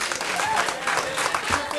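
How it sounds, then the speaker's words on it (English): An audience gives a round of applause at a live comedy show, a crowd clapping at moderate level with a voice heard over it. "give Andy a nice round of applause"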